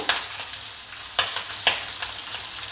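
Green chilli pieces and lentils fry in hot oil in a pan, giving a steady close sizzle broken by three sharp crackling spits, with no voices.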